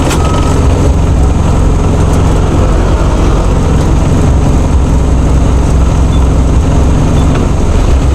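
A motorcycle engine runs continuously up close, giving a loud, steady low rumble with dense mechanical texture and no pauses or voices.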